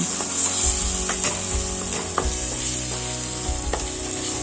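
Spice paste with sugar and Kashmiri chilli powder fries in hot oil, giving a continuous close sizzle broken by scraping stir strokes and occasional knocks of the utensil against the pan, with no voices.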